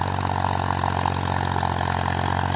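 A Powertrac Euro 439 tractor pulls a cultivator through a field, its diesel engine thrumming steadily and loudly close by, with a rhythmic mid-range chug and no speech.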